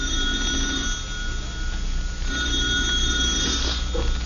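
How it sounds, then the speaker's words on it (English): At night in a dark, quiet house, a telephone rings continuously, a steady bell tone over a low hum, with no talk. "The telephone's ringing."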